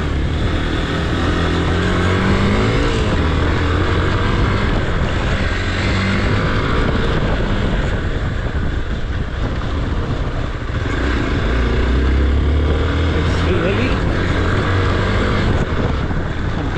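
An off-road motorbike climbs the hills around Rishikesh, its engine droning loud and continuous while the revs rise and fall over rough ground, with a constant rush of wind.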